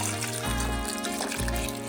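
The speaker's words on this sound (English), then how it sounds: "pour in just enough chicken stock to cover the potatoes" Chicken stock poured over potatoes in a pot for potato and leek soup, a steady close trickle and splash of liquid running for about two seconds with no talking.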